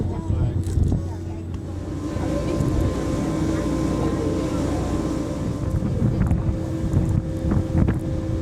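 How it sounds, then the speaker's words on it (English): Ferry crossing in Amsterdam toward Central Station, with a continuous low engine rumble and wind buffeting the microphone throughout, plus scattered faint background voices. "getting on board the ferry, back to Central Station"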